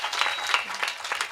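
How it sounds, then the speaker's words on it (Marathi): An audience at a kirtan gathering applauds a temple priest from Varanasi, giving a brief burst of clapping heard at moderate loudness. "एकदा बाबांकरता जोरदार टाळी वाजवा"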